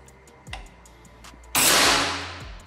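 A sharp, crisp long-range air rifle shot cracks out after a faint earlier click, followed by a bright ringing hiss that slowly fades.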